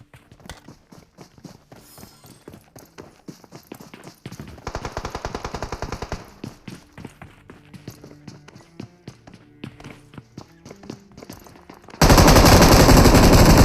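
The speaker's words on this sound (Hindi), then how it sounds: "ये बंदा ऊपर आके मेरे पे शॉटगन चलाता है" Shotgun blasts and rapid gunfire ring out in a solo ranked battle royale game, sharp repeated shots in quick bursts with footsteps between, ending in a loud sustained burst of noise.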